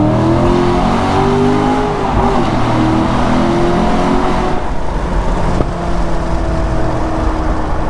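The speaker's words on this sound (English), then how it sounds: "One thing that I love about my Corvette is the active rev match." A Corvette engine with active rev matching revs and pulls loudly from close by, harmonic tones rising and falling through gear changes with brief blips, a continuous dense roar with no talk.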